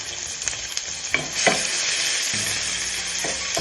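Onions frying in oil for a simple curry base crackle and sizzle steadily while a spoon stirs them, with a few sharper scrapes and clacks against the pan standing out; close and fairly loud, with no voices.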